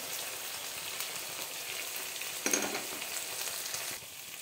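Chopped tomato and ground coriander, cumin, turmeric and chilli powder frying in a pan for potato dum, giving a steady close sizzle with a brief stirring clatter midway before the sound drops quieter near the end.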